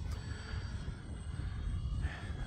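Electric-motor drone of an E-flite Valiant 1.3m RC model airplane in flight, a steady faint whine heard from a distance over outdoor background noise, with no talk.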